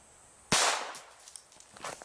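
Single sharp gunshot fired at a thick metal ice cream scoop, a loud close crack that decays quickly, followed by faint rattling and small impacts.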